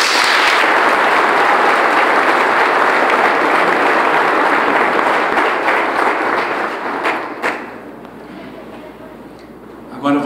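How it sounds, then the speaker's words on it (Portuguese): Strong applause from wedding guests during the ring exchange, loud and dense at first, then thinning into scattered claps and a few knocks before fading to a quieter room. "Pode aplaudir bem forte."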